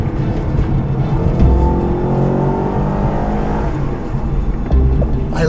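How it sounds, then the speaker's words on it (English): A 6.2-liter V8 in a Chevy SS sedan accelerates hard, with a loud, steady engine roar that builds in pitch and holds close and continuous, with no talk over it. "I love the way it accelerates"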